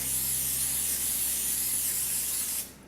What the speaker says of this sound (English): take just regular olive oil spray and just spray the cooking sheet so that the dough will not stick